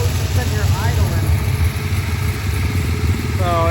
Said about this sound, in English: like while we just sitting here idling.